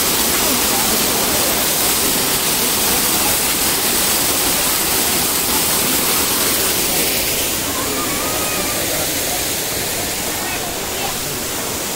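A waterfall pours down from above the Gubbala Mangamma temple, a loud, steady, broad roaring rush that fills the whole stretch without a break.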